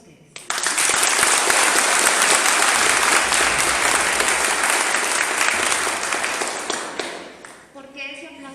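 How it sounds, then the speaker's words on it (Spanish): Audience applause at a university event, erupting suddenly into dense loud clapping that holds steady for several seconds, then tapers off as a voice begins speaking near the end. "yo pido un aplauso para ustedes"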